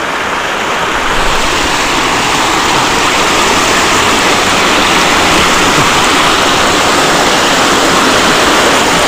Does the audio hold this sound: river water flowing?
yes